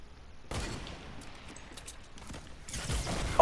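Shotgun fire in a Fortnite match, a few loud broadband blasts that trail off into a rough roar, with a louder burst at the very end and no speech.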